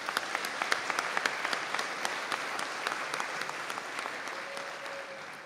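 An audience at a graduation conferring ceremony claps in a sustained round of applause with crisp individual claps, moderately distant, tapering slightly toward the end.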